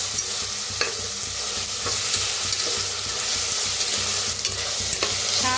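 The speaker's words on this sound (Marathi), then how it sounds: "हलवत छान भाजून घ्यायचं." Onion masala for a jackfruit curry is stirred and roasted in a pan, giving a loud, close, continuous sizzle with frequent scraping strokes of the spatula.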